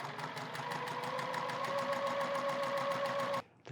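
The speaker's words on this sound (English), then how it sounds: "If you happen to have a vintage machine like my Kenmore Beauty right here, well then I set that stitch length to just past the 12 stitches an inch mark." Vintage Kenmore Beauty sewing machine running a straight stitch, a steady fast whirring hum with a rhythmic needle tick, close and continuous, then stopping abruptly near the end.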